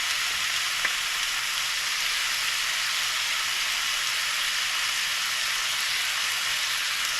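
Food frying in a pan with butter and canola oil makes a constant, even sizzle like light rain that holds steady throughout, close and fairly loud with no voices.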